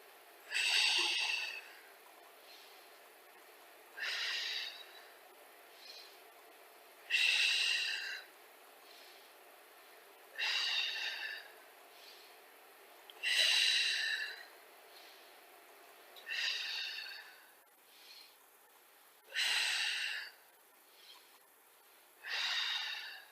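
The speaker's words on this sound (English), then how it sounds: "We're going to inhale when the knees are together. Exhale when we twist." Steady, deliberate breaths in and out during Pilates knee twists, close and clear, alternating roughly every one to two seconds for about eight breaths, with no talking.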